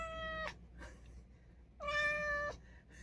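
A pet cat named Aaron meows twice, close and clear, each a drawn-out, plaintive cry separated by a short pause with no talking.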